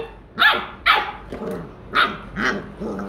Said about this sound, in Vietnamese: Đàn cún con gần 50 ngày tuổi.